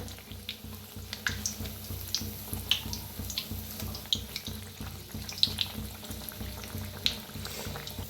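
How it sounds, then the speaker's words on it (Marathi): A boiled-egg breakfast snack frying until crispy on both sides in a pan of oil: a close, steady bubbling crackle with scattered small pops and spits throughout. "छान दोन्ही साईडने क्रिस्पी होस्तर असं तळून घेऊया."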